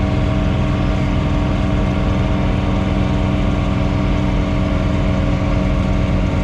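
A John Deere 3 Series compact tractor runs a snow blower, its engine droning loud and steady up close with a constant heavy rumble and no clear pause or rise in pitch.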